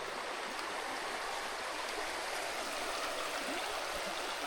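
A river in the Mondulkiri jungle flows steadily over slippery stones, a close, continuous rush of water with no pauses and no voices.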